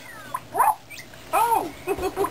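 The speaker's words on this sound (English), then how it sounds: "I'm looking for Blue. She's a puppy" A puppy character's barks and whimpers from a Nick Jr. promo, three short yippy bursts spaced across the clip, close and clear with faint background sound.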